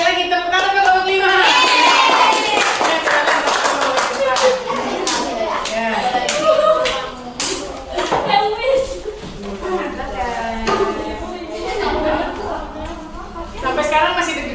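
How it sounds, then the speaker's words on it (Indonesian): Classroom applause for group 5 as students come to the front, a burst of many hands clapping loudly at first, then thinning into scattered claps under chatter and a talking voice. "Saya lagi tepuk tangan untuk kelompok 5."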